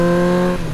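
A cartoon motorbike engine holds a steady, loud droning rev for under a second and then eases slightly at the end, with no voices over it.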